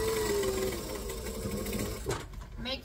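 A sewing machine stitches the last edge of a tote bag in a steady, rapid mechanical whir, close and clear, stopping briefly near the end, with faint talk in the background.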